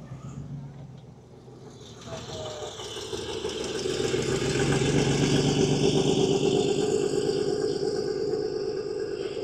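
Classic car driving past at an oldtimer car show, its engine a steady mid-pitched hum that swells louder as it nears, heard alone.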